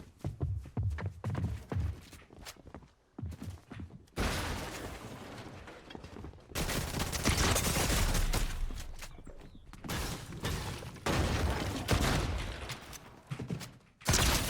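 Shotgun fire in the Fortnite video game: repeated loud booming blasts in irregular bursts, mixed with in-game clatter and action noise, and no speech.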